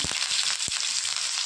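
Cumin seeds hit hot oil in a pan, a bright steady sizzle up close with a few soft taps and knocks of a spoon underneath.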